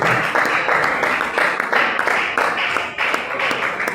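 A church congregation claps steadily in rhythmic bursts during a sermon, loud and close, continuing throughout.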